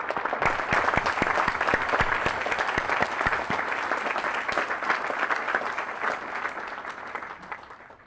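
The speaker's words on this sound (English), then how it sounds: "Give yourselves and your teammates a round of applause." Sustained applause from a large outdoor gathering of graduating Army cadets at the 5th Regiment Advanced Camp graduation, with sharp, close individual claps over a dense, even roar that slowly tapers toward the end.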